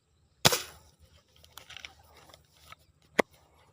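Spear gun fired while hunting fish in a stream, heard as one sharp close snap followed by faint splashing and rustling, then a second crisp click near the end, with no talk.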